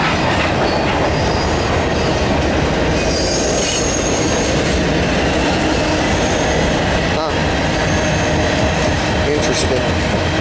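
Norfolk Southern freight train carrying international containers rolls past close by, a loud continuous rumble of wheels and clattering cars with squealing rail noise, and someone speaks over it.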